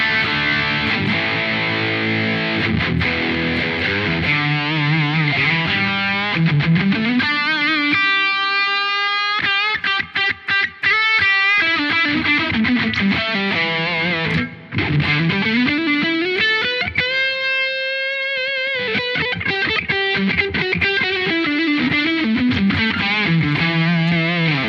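A heavily distorted electric guitar played through a Quad Cortex amp modeler plays loud, sustained chords and riffs with bending notes, steady and full throughout, no voice.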